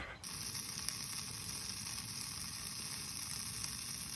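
Food sizzling in a pan on a camp stove outdoors in the Scottish Highlands at Glen Etive, a steady close hiss and crackle beginning abruptly and holding constant, with no talking.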